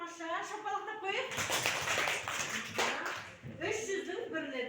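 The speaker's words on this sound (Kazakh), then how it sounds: "шапалақтап қойып" A classroom of children breaks into a burst of clapping lasting about two seconds, with a teacher's voice talking before and after it.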